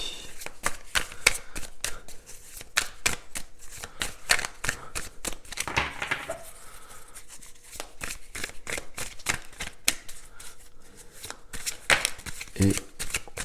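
Barbara Moore tarot cards are handled and shuffled close up, a rapid series of crisp riffling flicks and paper slaps in bursts, with a person speaking softly between them.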